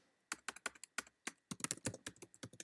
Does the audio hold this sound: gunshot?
no